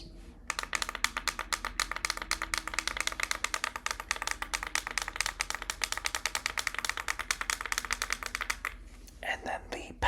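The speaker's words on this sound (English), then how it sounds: "And then the plus minus buttons sound like this." Plus and minus buttons on a small device clicked rapidly and steadily for about eight seconds, producing a close, crisp, rattling stream of clicks that stops before a brief handling rustle.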